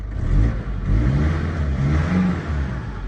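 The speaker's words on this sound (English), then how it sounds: "let me just put the key in the ignition. Let's make sure it's not in gear. And let's start her up for you so you can have a little listen." A 2006 Mercedes Sprinter 311 CDi long-wheelbase van's diesel engine runs, a steady close, loud rumbling idle with slight rises in revs and no talk.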